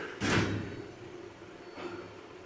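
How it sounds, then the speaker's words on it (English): A scenic elevator door in a hotel closes with a short soft thud, then a faint second bump follows a moment later over light room noise. "We'll go up to M, and door close."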